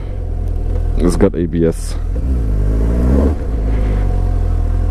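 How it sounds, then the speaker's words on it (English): A 2017 Suzuki GSX-S750 motorcycle doing a burnout, its engine a loud, steady low rumble with a brief rise in revs, while someone talks over it. "That I'm doing a burnout."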